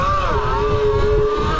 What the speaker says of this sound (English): Curious to see how hot the controller and motor is going to be. I'm literally full tilt on the throttle.